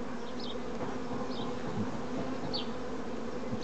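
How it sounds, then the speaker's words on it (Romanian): Honeybees buzzing around a hive in April, with drones being released, a steady continuous hum close by, with occasional brief higher whines as individual bees pass, and no voices. "Deci albină frumoasă, roșie, da? Și blândă."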